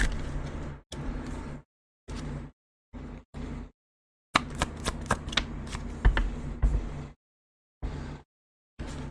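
Tarot cards shuffled by hand in repeated bursts of riffling and flicking, several short sessions separated by silences, then a longer, denser shuffle with sharp snaps, close and fairly loud.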